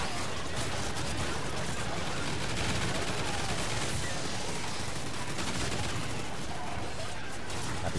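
Double turret blazing away in the video game Extinction, a dense, continuous roar of rapid gunfire and blasts filling the whole stretch at steady loudness.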